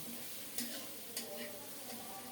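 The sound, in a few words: stirring and frying dried fish with spices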